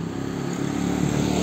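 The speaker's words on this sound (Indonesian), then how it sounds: "Awas, minggir sayang, motor." A motorcycle engine hums steadily close by on a late-afternoon street in Sukoharjo, growing slightly louder as it passes, alone without talk.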